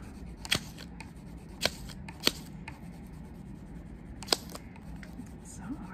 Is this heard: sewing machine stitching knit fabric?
no